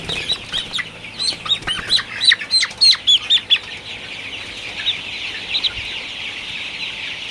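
Sonali super hybrid chickens squawk and cluck loudly and close by in a rapid burst of agitated calls while one is being caught, then the calls trail off into quieter background clucking.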